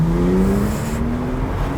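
A 2019 Porsche 911 Turbo S Cabriolet pulls hard under throttle, its engine note rising steadily in pitch with a loud, close, continuous drone and no talking over it.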